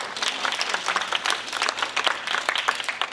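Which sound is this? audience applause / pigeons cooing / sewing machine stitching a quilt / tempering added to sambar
audience applause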